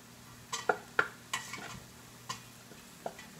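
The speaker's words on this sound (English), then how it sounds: "So I'm just going to give it a nice little stir over here" Hamburger meat being stirred in a frying pan: a handful of distinct scrapes and clinks of a utensil against the pan, spaced irregularly over a faint sizzle, close but fairly quiet, with no talking.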